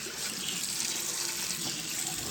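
A newly installed kitchen faucet runs water steadily into a sink, a close, even hiss with no talking.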